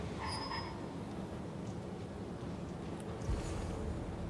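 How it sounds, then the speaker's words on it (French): A subway train in the video game Spider-Man Remastered produces a steady low rumble of rolling cars. Faint metallic squeals and clanks sit on top of the rumble, which stays moderately quiet and constant throughout. "il va prendre le métro"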